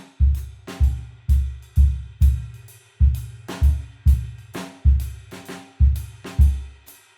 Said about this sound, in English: between the bass drum and snare drum with those assignments would sound like this.